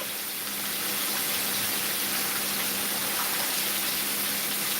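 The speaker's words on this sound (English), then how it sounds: "We're gonna rinse our spinach." Steady gush of running tap water rinsing spinach for a healthy pumpkin chutney and braised chicken recipe, a continuous broadband splash held at an even level throughout, alone with no talk.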